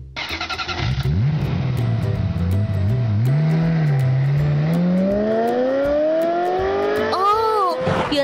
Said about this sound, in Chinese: 哇，卡片变出跑车啦！